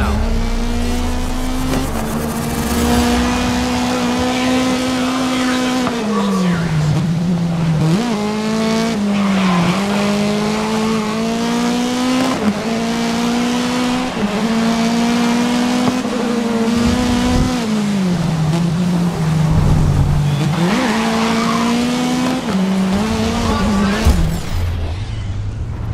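Race cars roar at the start of a race in the video game Grid 2019, loud engines revving up and down through gear changes with tire squeals, continuous and close for the whole stretch.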